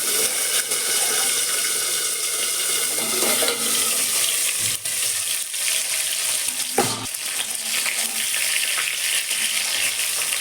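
Fish frying in hot oil in a pan, a loud continuous crackling sizzle with occasional stirring and clatter, steady throughout with no talking.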